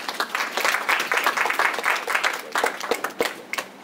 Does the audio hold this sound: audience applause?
yes